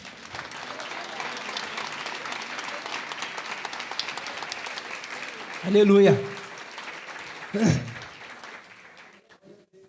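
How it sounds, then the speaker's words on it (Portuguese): Church congregation applauds during a sermon, a continuous crowd of hands clapping that fades toward the end, with a voice calling out briefly over it. "Pode aplaudir o nome do Senhor?"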